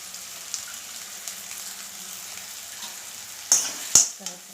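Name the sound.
curry leaves and green chillies frying in pan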